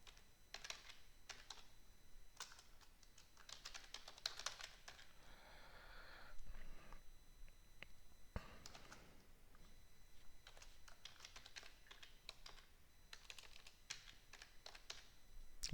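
Rapid typing on a computer keyboard while writing a code comment, clusters of quick light key clicks with short pauses between bursts, close and fairly quiet, no talking.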